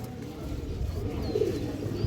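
A female pigeon coos close by, a soft low warbling under steady background noise, with a faint voice nearby.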